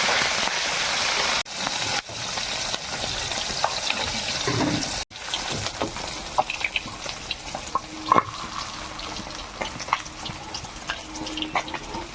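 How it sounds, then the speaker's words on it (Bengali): Live bata fish from a pond frying in hot oil, a steady broadband sizzle running throughout with occasional pops and clicks, briefly cut by a couple of short gaps, no talking. "এইভাবে সব কটা মাছ আমি ভেজে নেব"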